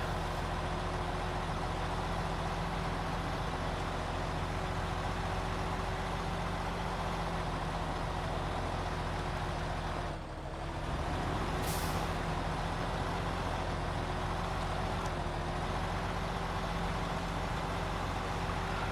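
A stock truck in a video game climbs a mountain track hauling short logs to a cabin. Its engine drones steadily and loudly throughout, with a short dip and a hiss partway through.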